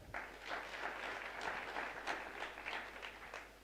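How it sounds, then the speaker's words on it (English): Modest audience clapping at a university International Day of Peace event, a brief, fairly faint patter of hands with uneven bursts. "Can we give them a clap?"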